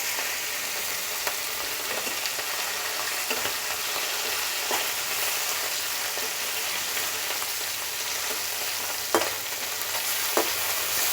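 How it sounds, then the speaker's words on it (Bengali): Chapila fish fry in hot oil in a pan, five pieces at a time, giving a dense, steady crackling sizzle throughout with a few sharper pops and spatters, close and loud with no talking. "সবগুলো মাছ একসাথে ভাজা যাবে না এখন আমি পাঁচটা দিতে পেরেছি"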